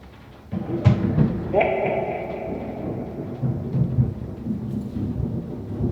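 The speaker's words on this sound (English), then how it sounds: "A lot of thunder there, lightning." Thunder rolls during a storm, a deep rumbling swell that builds and lingers with a distant crackle, while a voice talks over it.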